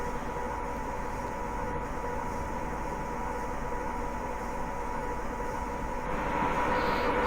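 A Class 87 electric train running in Train Simulator Classic near Glasgow Central, a steady rolling rail rumble and hum holding even throughout, growing a little louder and brighter toward the end, with no talking.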